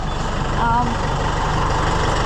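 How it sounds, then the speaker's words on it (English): A farm tractor engine idles steadily while warming up before moving silage bales, a loud, close, continuous rumble with a regular throbbing beat and a faint tonal whine, with a voice briefly audible over it. "So, tractor started."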